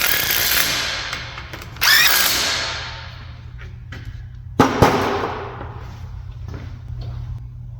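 A power impact gun running up caliper mount bolts on a Jeep Dana 44 front axle, two short whirring bursts, each ringing off, then a sharp rattling burst, close and loud over a low steady hum.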